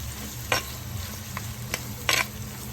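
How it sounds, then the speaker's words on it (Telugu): Onions frying in oil for a mutton curry, a steady hiss under a few sharp scrapes of a spoon stirring the pan, heard close with no talk. "నూనెలో మంచిగా ఫ్రై చేసుకోవాలి."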